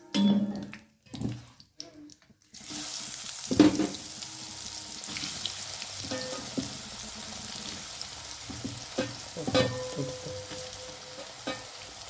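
Jackfruit pieces frying in hot oil give a continuous bright crackling hiss, after a few opening knocks, with occasional clinks of a slotted spoon lifting pieces out.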